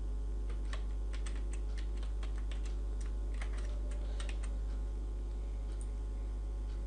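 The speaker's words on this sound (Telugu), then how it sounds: "సో ఇప్పుడు నేను పాస్వర్డ్ అనేది టైప్ చేస్తున్నాను." A password is typed on a computer keyboard in a quiet room, a quick run of light, close key clicks in uneven bursts over a low steady hum, ending in near silence.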